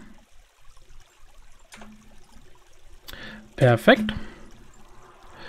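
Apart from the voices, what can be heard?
water flowing in the video game Minetest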